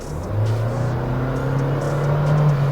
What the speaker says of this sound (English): Just a push on the throttle and the Thar shoots off